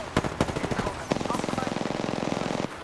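Rapid automatic gunfire in Apex Legends strikes the player, starting with a few separate shots and turning into a dense, steady burst of close, loud rounds that continues to the end with no speech.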